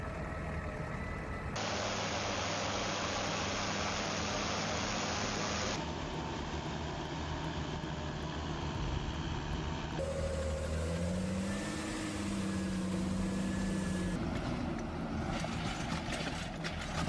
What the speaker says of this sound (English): The tractor roars, tires spinning, digging deeper into thick mud.